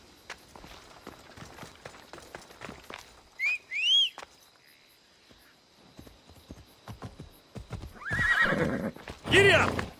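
A horse in Assassin's Creed Odyssey neighs twice, a short whinny midway and a loud, drawn-out one near the end. Galloping hooves and footsteps patter throughout, and brief voice sounds come in between.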